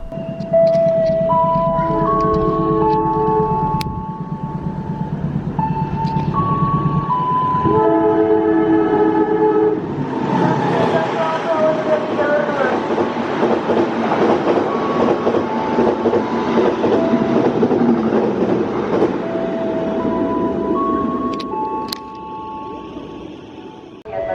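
An Indonesian Kertajaya passenger train rolls past loud and close, its horn sounding in repeated melodic blasts over the rumble and clatter of carriages.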